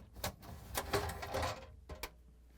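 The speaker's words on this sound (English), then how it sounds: "To remove the snack pan, we're going to pull it straight out till it stops, then lift it up" A plastic snack pan slides out of a Whirlpool refrigerator with a series of rattling, scraping clicks, close and quiet, ending in a final knock.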